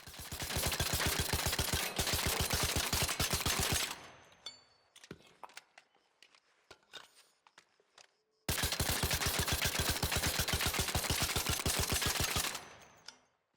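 Kettle rifle in the game ARC Raiders, fitted with a green compensator and vertical grip, firing two long rapid bursts of evenly spaced loud shots separated by a few seconds of quiet reload clicks and clatter.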